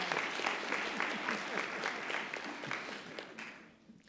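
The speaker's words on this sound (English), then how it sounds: "Let's give them a round of applause." Applause from a college celebration audience, a dense crowd clapping steadily at moderate volume for a few seconds before tapering off, with some voices mixed in.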